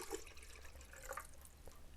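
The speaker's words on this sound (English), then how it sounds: "Just put some water in like so." Water runs into a film developing tank for a rinse at 20 °C, a soft, continuous trickle and splash heard faintly and close, with no talking.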